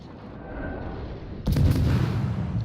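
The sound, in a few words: battleship gunfire in naval video game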